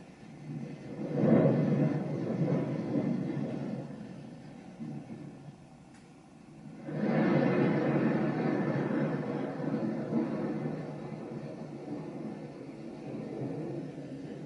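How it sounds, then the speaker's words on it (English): Low rolling thunder from a Divoom Timebox speaker rumbles in two long waves separated by a brief lull, soft and steady like a distant storm played back at moderate volume. "Thunder, for those of you who like thunder."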